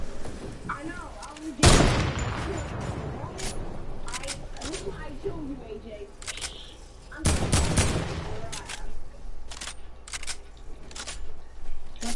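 Video game gunfire cracks out in two sharp, loud bursts with scattered lighter shots between them, while voices chat over the action.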